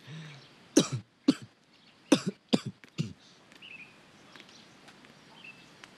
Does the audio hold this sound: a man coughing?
yes